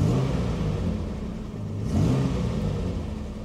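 Ford Capri MK3 2.8i special, an 80s classic car, its engine running with a steady close mid-range drone that swells briefly in a rev near the middle before settling back, no voices.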